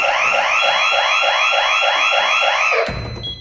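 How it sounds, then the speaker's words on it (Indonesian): An old house alarm that switches on and off by itself, a loud electronic warble repeating in fast regular pulses that cuts off abruptly near the end, leaving only low room noise. "suara alarm yang bisa mati dan hidup sendiri"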